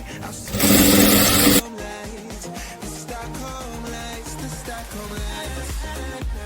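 A sewing machine stitches around the ears of a fabric Tilda bunny, starting with a loud burst and then running in a rhythmic chug beneath music.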